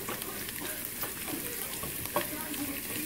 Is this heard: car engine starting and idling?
no